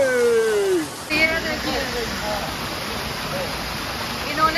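Water from a waterfall rushes in a steady, full hiss that sets in after a brief opening with voices, continuing close and loud to the end.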